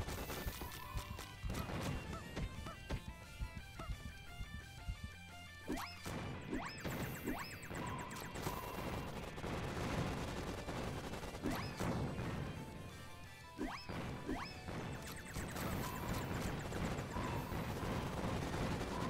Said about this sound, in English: I too can shoot rockets at you